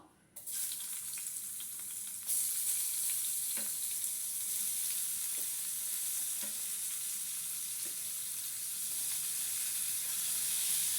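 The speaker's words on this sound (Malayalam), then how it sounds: "എന്നിട്ട് അതിലോട്ട് ഇടുന്നത് 2 സവാള അരിഞ്ഞതാണ് കേട്ടോ." Two sliced onions fry in hot oil in a pan for a macaroni dish, a steady broadband sizzle and hiss after a sudden start, with faint scraping stirs now and then.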